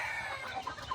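Hens at a bird park cluck softly at a distance, with faint, brief murmuring calls over a quiet outdoor background.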